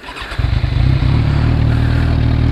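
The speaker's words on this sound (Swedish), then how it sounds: "Startar vi upp den här." A 2015 Kawasaki Z1000 motorcycle engine cranks briefly and then catches, settling into a loud, close, steady idle rumble with a throbbing low beat.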